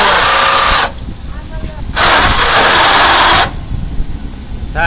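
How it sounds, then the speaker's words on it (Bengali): A Bajaj auto rickshaw engine cranks on its self-starter in two loud bursts of harsh, hissing whir, the first about a second and the longer second lasting well over a second, separated by a quieter gap with low rumble. "দেখতে পাচ্ছেন এই ইঞ্জিনটি স্টার্ট করার চেষ্টা করা হলো"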